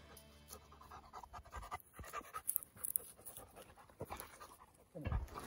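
A hunting dog pants steadily and close during a shed antler hunt outdoors, rapid rhythmic breaths running throughout, with a louder burst near the end.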